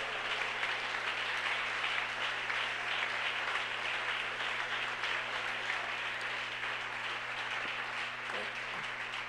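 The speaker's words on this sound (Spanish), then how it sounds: "fuerte ese aplauso para el Señor" A church congregation applauds continuously, a steady wash of many hands clapping at once that holds for the whole stretch, with a low hum underneath.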